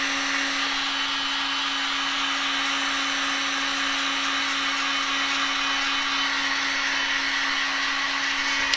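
A hair dryer or heat gun blows over a freshly coloured wooden piece in a workshop, a steady close whooshing drone with a constant motor whine, running unbroken for the full stretch with no talk.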